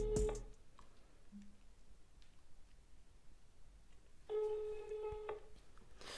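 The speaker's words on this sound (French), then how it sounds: "je tape directement le numéro" A telephone number is keyed in with a short burst of dialing tones and clicks, then a steady ringback tone sounds in a quiet room with no voices.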